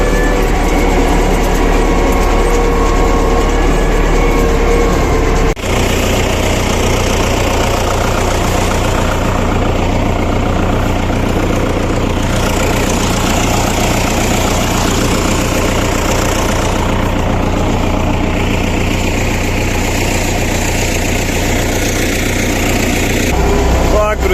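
An MTZ tractor engine drones loud and steady while driving through deep fresh snow off-road, a continuous close rumble with a heavy low throb throughout, a brief dip near the start.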